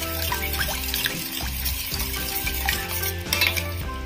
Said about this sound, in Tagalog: Haluin natin ng maayos para matunaw